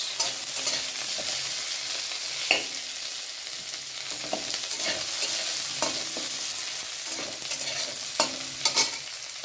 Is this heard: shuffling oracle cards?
no